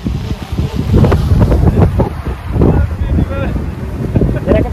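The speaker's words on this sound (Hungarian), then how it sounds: "Nagyon nagy a szél." Strong outdoor wind buffets the microphone during a windy DJI Mini 3 Pro drone flight, a loud, continuous rumbling roar with gusty swells throughout.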